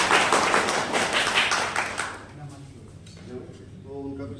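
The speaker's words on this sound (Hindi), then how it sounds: "हम लोग एक बार जोर से तालियों से स्वागत" An audience at a Republic Day gathering claps to welcome a poet to the stage, with dense, loud clapping for about two seconds that quickly fades, after which people start talking.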